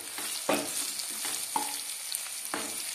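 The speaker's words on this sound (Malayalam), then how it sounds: "ഫ്രൈ ചെയ്യുക." Masala idli frying in a pan with chili powder: a steady, bright sizzle, broken every second or so by the scrape and clack of stirring, close up with no talk.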